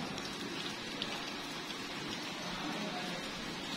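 Rain falls on plants by a window and a small rooftop yard, making a steady, even hiss with soft patter that continues alone at a moderate level throughout.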